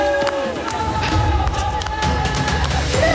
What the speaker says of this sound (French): Fin du match, applaudis.